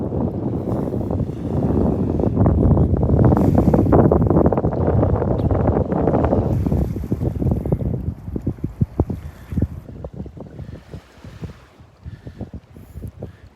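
Strong gusts of wind buffet the camera microphone on a beach at Delnor-Wiggins, a loud continuous roar for about eight seconds that then breaks into scattered thumps and crackles as the gusts ease.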